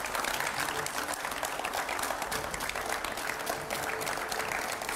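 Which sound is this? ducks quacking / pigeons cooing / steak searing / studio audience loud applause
studio audience loud applause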